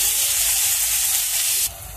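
Chopped onion frying in the oil left over from frying fish, a loud, steady sizzle that runs close and unbroken, then drops suddenly to a softer hiss near the end.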